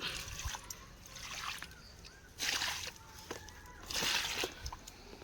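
Liquid manure (jeevamrutham) poured onto garden plants such as green chili, allspice and wood apple, heard as a few soft splashing trickles in separate bursts over quiet background.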